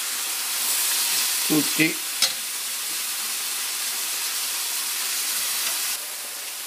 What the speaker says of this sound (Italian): e do una mescolata a già sfriggere, soffriggerli, amalgamarli